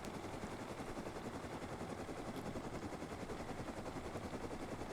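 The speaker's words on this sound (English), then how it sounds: "Whose helicopter is that?" Game helicopter rotor chopping steadily and loudly throughout, mixed with rapid gunfire-like bursts in a dense, continuous wash of noise.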